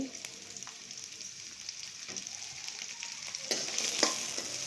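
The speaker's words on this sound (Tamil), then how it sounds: "ரெண்டையும் நல்லா வதக்கணும்" Sliced onion and garlic cloves sautéing in a pan for tomato chutney, a soft steady sizzle with occasional stirring clicks and scrapes, close but fairly quiet, growing a little louder toward the end, with no speech.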